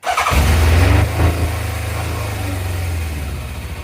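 A 1987 Yamaha FZR 1000 Genesis, running rough after sitting with old fuel, cranks and fires up with a loud roar, then settles into a steady, throbbing idle close by with no talk.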